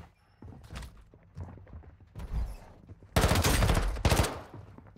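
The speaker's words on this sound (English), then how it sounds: "Why is my gun on burst?" Burst-fire gunfire from a weapon in the mobile shooter Warzone Mobile, with scattered short shots early and then two dense, loud bursts close by toward the end.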